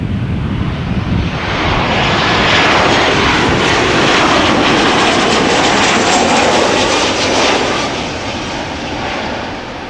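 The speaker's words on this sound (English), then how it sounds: "This is Transavia flight 5672 returning from Ibiza." A Transavia jet airliner returning from Ibiza passes with a loud, continuous engine roar that swells and then eases slightly, windy and unbroken, with no one speaking.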